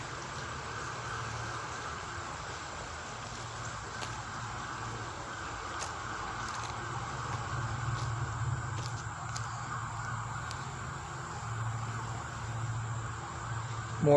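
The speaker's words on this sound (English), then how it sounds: "Hear a siren in the background." A siren wails faintly and far off, a steady distant tone beneath insect hum and the hush of open woodland near an old Alabama graveyard.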